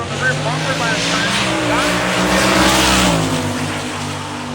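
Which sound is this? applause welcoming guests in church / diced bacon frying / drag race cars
drag race cars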